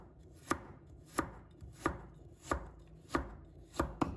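A knife slicing fresh ginger on a cutting board, six sharp, evenly spaced chops about every 0.6 seconds, close and clear over a quiet background.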